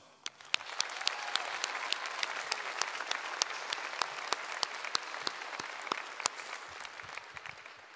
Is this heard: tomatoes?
no